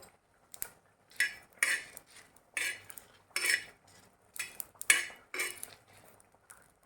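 Dry-roasting coriander seeds, spicy byadgi chillies and curry leaves in a pan, heard as a series of close, crisp scraping and rattling strokes of a spatula against metal, coming in irregular bursts with quiet gaps between them.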